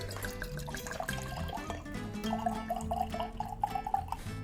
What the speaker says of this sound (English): pour myself a nice cold glass of rosé